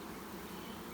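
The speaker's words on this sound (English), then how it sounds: "lot of big bees on that side" A steady, dense buzzing of many honeybees at an open hive during inspection, continuous and close, with no pauses or voices.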